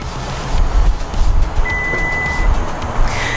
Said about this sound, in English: as the tailgate opens, there's actually a warning beep to alert people around you